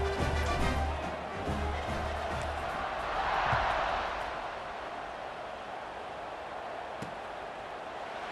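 A stadium crowd in EA Sports College Football 26 roars in a broad, sustained wash of cheering that swells briefly near the middle and then settles, heard without talk over it.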